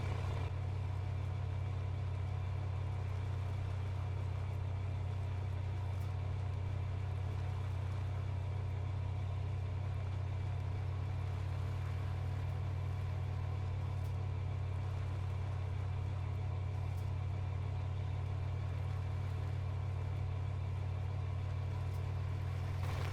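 Steady, droning diesel rumble of a 500-horsepower Peterbilt 389 semi truck hauling a heavy load uphill in Farming Simulator 17, unchanging and continuous throughout with no voices.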